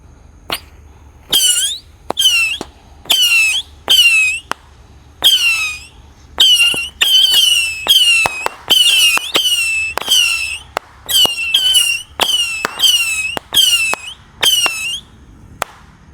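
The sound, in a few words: rocket box missile 25 shot fireworks launching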